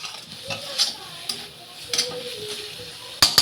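Prawn masala spices frying in oil in a pan, a close, soft sizzle broken by repeated scraping stirs and light clinks of a spoon against metal, with no talking.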